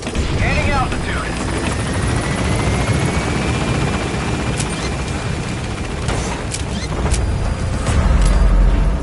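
The Pequod helicopter in Metal Gear Solid V: The Phantom Pain gains altitude with a loud, steady rotor drone and whine that swells toward the end, with brief sharper mechanical accents along the way.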